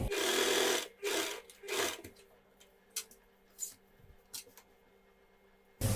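A sewing machine stitching a women's cigarette pant in short loud runs near the start, then quieter scattered clicks and handling of fabric before a final brief burst.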